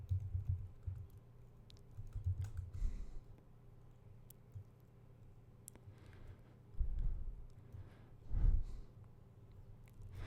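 Keys clatter on a computer keyboard as a command is typed, quiet close tapping in short irregular bursts with pauses between, heard alone without talk.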